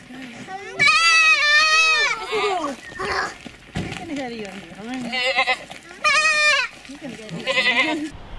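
Goats bleat loudly and close in a rural valley paddock, several long wavering calls in bursts with pauses, answered by lower bleats and brief background sounds.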